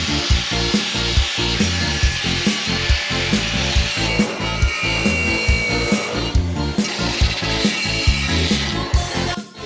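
A 4.5-inch angle grinder fitted with a 4-inch wheel grinds metal, giving a loud, continuous harsh rasp that swells and eases in a regular rhythm as the wheel is worked across the piece.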